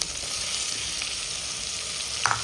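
Steady, dense sizzling of spices and chopped tomato frying in a hot pan for sambar, close up, with a faint clink near the end.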